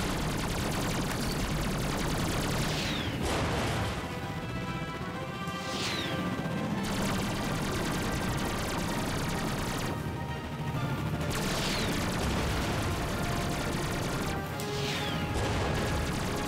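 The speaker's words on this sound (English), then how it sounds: "You're gonna have to use your gun and bombs for this one." Weapon and bomb fire in Ratchet & Clank on PS4, with repeated crashing bursts and rapid gunfire-like impacts over a busy, continuous game soundscape.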